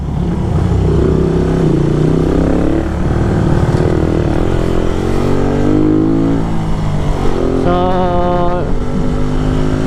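Suzuki Raider 150 motorcycle riding on a road, its engine droning steadily and close throughout with shifting pitch as it accelerates, plus a brief higher whine near the end.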